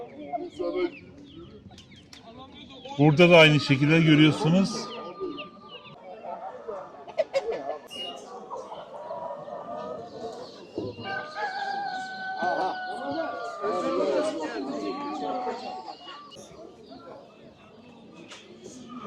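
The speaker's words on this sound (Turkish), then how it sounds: "Burada da civcivler var. Annesiyle beraber görüyorsunuz." A mother hen and her chicks at a Tuzla animal market, with soft clucks and peeps amid market chatter and someone speaking nearby.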